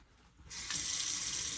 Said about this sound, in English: Turning the water on